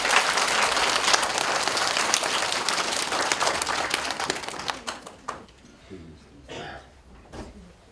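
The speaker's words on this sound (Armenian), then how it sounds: "Ծափարենք։" A children's audience at a kindergarten New Year celebration applauds in a dense, loud burst for about five seconds, then it thins to scattered claps and knocks.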